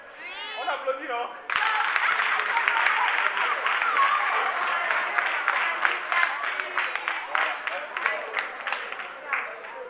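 An audience of school students at a book presentation in Benin bursts into dense, steady applause after a brief spoken prompt, the clapping staying close and lively for the rest of the stretch.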